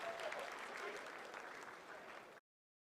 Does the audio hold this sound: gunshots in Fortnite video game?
no